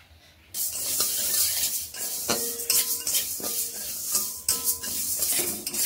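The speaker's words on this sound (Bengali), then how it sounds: "মুগ ডালকে একটুখানি ভেজে নেব।" Moong dal is dry-roasted in a wok, a steady rustle and scrape of lentils being stirred, with sharp clinks of the spatula against the metal pan recurring close up after a quiet start.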